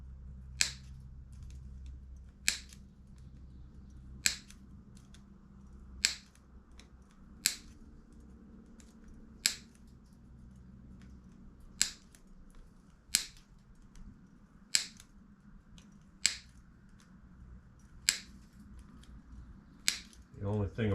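Wire mesh cloth being snipped with cutters for mouse proofing, a dozen sharp, evenly spaced clicks about every one and a half seconds over a quiet low hum, close and crisp.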